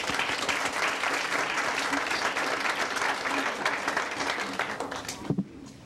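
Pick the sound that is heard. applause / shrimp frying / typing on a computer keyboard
applause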